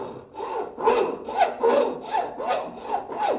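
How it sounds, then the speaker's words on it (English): A hacksaw cuts a door threshold sill to length, its strokes rasping in a steady back-and-forth rhythm of about seven close, fairly loud passes with no one talking. "use a hacksaw to cut our sill to length"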